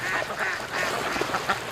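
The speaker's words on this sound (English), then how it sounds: "That's all these ducks do is eat." Ducks kept for free-range raising on a lake quack in a busy, overlapping chorus of repeated, fairly loud calls from a nearby flock.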